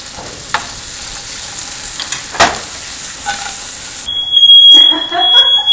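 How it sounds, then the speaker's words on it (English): Butter sizzling in a frying pan before sliced onions go in: a steady close hiss with a couple of sharp pops, then a high electronic beeping chimes over the frying near the end. "Alright, now we've got some good sizzling butter."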